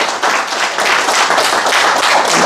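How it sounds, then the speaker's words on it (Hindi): A group claps in appreciation at an orientation session, a short burst of fairly loud, dense hand claps with no talk. "बस एहसान वाली तालियां बजा दूं यार"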